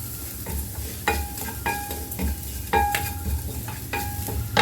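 Ground spice powder sautéing in oil for a watermelon rind kootu, a steady close sizzle broken by repeated metallic scrapes and ringing taps of a spoon against the pan, no voices.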